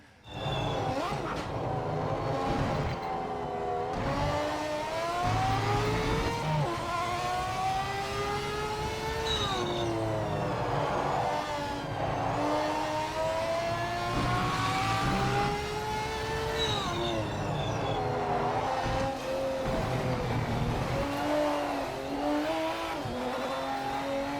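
A Mercedes-Benz CLK LM race car in the video game Project Motor Racing roars steadily throughout, its engine pitch climbing and dropping through repeated gear shifts as it accelerates and brakes, loud and continuous with no talk.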